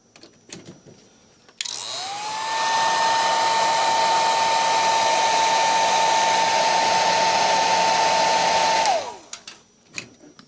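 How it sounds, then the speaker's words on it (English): A heat gun shrinks heat shrink tubing over a spliced Sony MDR-XB700 headphone cable, its loud steady blowing whine starting abruptly, running about seven seconds close up, then cutting off and winding down. "get the heat gun out, and we're going to shrink the heat shrink on there"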